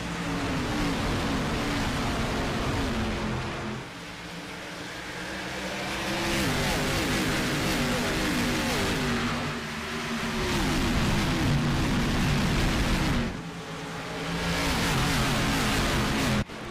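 Pack of stock cars accelerating at a race start at Phoenix in the iRacing video game, a loud continuous roar of many engines revving and shifting together, rising and dipping in waves for over fifteen seconds.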